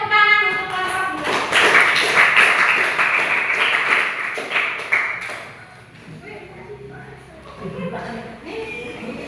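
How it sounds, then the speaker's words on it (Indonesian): Classroom applause for a student group during a teacher-training lesson on Quran recitation: a burst of clapping, with some voices mixed in, that builds quickly and fades over several seconds. "beri tepuk tangan untuk kelompok dua"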